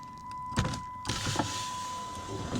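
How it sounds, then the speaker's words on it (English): An electric power window motor in a 2005 Dodge Dakota door whirs steadily for a couple of seconds, with a faint click near the start, close and fairly quiet, no talking. The window is loose. "sometimes in the cold, my window won't come down, but I can hear the motor going"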